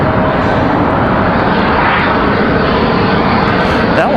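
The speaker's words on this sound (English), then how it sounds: "E175 arrival." Envoy Embraer E175 regional jet arriving at Raleigh-Durham on a windy day, a loud, close, steady engine roar with wind noise throughout and a voice talking over it.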